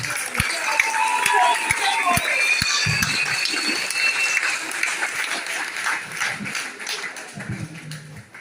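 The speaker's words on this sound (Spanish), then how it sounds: "Fuerte el aplauso para el próximo candidato presidencial del PRD." A crowd at a PRD political rally for a presidential pre-candidate in the Ngäbe-Buglé comarca applauds, a dense, steady wash of clapping with scattered cheers and some speech mixed in.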